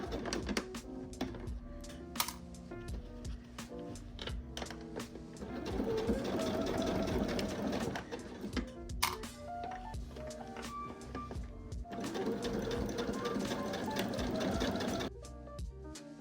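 A sewing machine stitches a half-inch seam on a patchwork denim trench coat, running in steady bursts with brief pauses and restarts, close and loud throughout.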